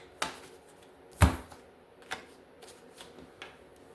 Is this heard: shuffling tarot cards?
yes